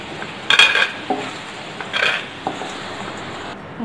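Roasted sandge, dried lentil dumplings, being scooped out of a pan in a home kitchen: a few close metallic scrapes and clinks of a spoon against the pan, spaced apart with quiet gaps and no speech.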